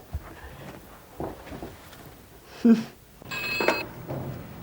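A brief telephone ring sounds near the end, short and fairly faint, amid scattered footsteps and light room noise.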